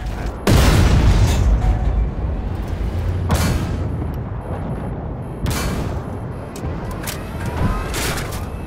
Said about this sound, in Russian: А это выстрел 140-миллиметровой пушки, уже как-то совсем уж громко и чрезвычайно басовито